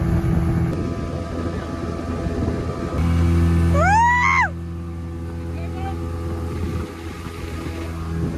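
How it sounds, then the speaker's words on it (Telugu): A speedboat motor drones steadily at close range on Hussain Sagar lake at Tank Bund, with a brief rising whine midway and voices talking over the engine noise. "ఇప్పుడైతే మన స్పీడ్ బోట్ అయితే స్టార్ట్ అయిపోయింది"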